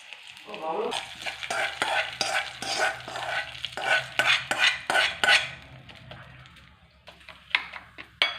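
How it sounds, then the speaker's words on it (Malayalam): Mustard seeds splutter in hot oil for a chutney tempering, giving a loud crackling sizzle with sharp bursts of popping and metal stirring clinks that thin out toward the end. "ഇനി നമുക്ക് കടു പൊട്ടിച്ചിടാം"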